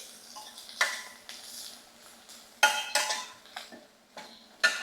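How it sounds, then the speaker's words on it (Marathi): Turmeric and garam masala sautéed in a pan, a spoon scraping and clinking against metal in irregular bursts, near and fairly quiet, with a light background sizzle and no voices. "सगळे मसाले आपल्याला व्यवस्थित परतवून घ्यायचे आहेत"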